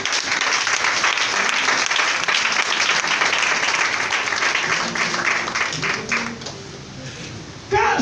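A church congregation breaks into sustained, dense applause that fills the space loudly and evenly, with voices mixed in, then thins and fades toward the end before a brief loud burst.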